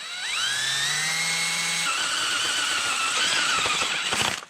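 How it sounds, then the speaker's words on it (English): A power drill bores a pouring hole into an old plastic lawn striper for a Toro TimeMaster 30-inch mower, a steady high-pitched whine running up to speed and grinding continuously for a few seconds, loud and close, with no talking. "I gotta drill into this so that way we have a good sized pouring hole."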